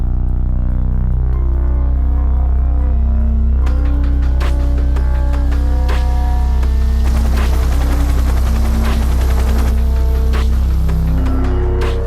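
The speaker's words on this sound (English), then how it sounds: "The helicopter was airborne within minutes, swooping low to cut off the pirate boats." A Royal Navy military helicopter from frigate HMS Richmond flies low over the open ocean to cut off pirate boats. Its loud, steady low rotor drone runs the whole time with sustained tones layered over it, and no one talks.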